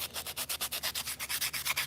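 Hand sanding the corners of a fat carbon knife handle, with quick rhythmic back-and-forth rasping strokes at an even pace, soft and close.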